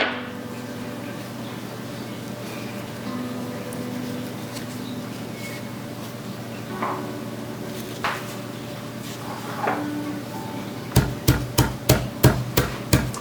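Round shells being cracked open by light tapping, for home gardening: faint scattered clicks at first, then a close, crisp run of about seven evenly spaced taps near the end.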